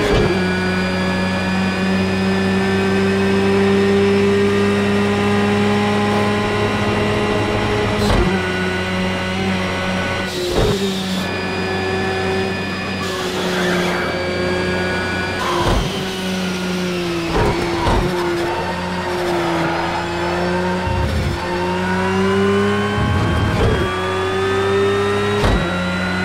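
A Porsche race car engine in the Project Cars 2 racing game drones at a steady high pitch heard from a bonnet camera, with shifts and brief rev changes, loud and alone with no talk.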